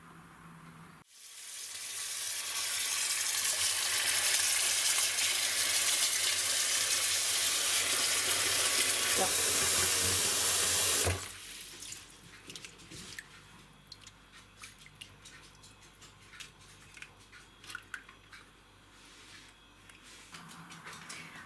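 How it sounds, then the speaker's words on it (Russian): Water pours steadily into a container for soaking orchid roots, a loud rushing hiss lasting about ten seconds, then stops and leaves scattered small drips and splashes. A short word is spoken. "сейчас я помещу эти корни в воду."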